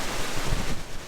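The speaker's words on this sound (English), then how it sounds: "Wind is so intensive." Strong gusting wind buffets a parked camper van at night on the Greek coast, a loud, steady broadband roar with surf-like swells and microphone buffeting, no voices.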